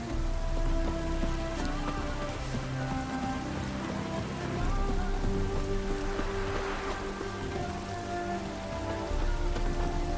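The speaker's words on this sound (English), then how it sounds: "Rain doesn't bother you, it seems." Rain falls steadily in the video game The Witcher 3 in the city of Novigrad, a continuous close patter on surfaces with a low ambient hum underneath throughout.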